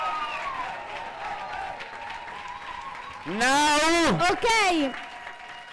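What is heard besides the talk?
audience applause for poets at poetry slam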